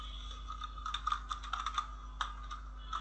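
An address is typed on a computer keyboard, quiet close clicks of irregular keystrokes over a low steady hum, with no voices.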